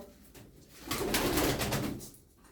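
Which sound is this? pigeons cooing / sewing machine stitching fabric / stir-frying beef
pigeons cooing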